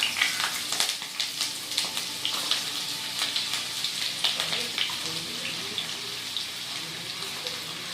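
Eggplant, potato, sweet pumpkin and pumpkin stems dropped into hot oil for a Bengali pumpkin-greens dish, crackling and sizzling close up in a pan, with bursts of spitting and stirring scrapes; a voice talks briefly over it.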